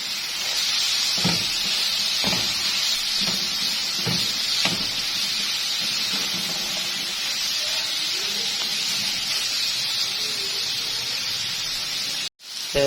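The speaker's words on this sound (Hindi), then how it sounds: "मसाले शामिल करने के बाद सब्जियों की थोड़ी सी भुनाई कर लेंगे हम।" Vegetables sautéing in a pan with red chili powder, turmeric and salt for chicken paprika: a steady bright sizzle broken by a few scraping stirs, close by, without talk, stopping abruptly near the end.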